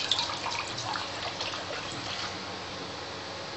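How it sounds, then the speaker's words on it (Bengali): Water poured to make sugar syrup for Kolkata goja sweets, a steady trickling, splashing stream, soft and close, with no voices. "জল দিচ্ছি।"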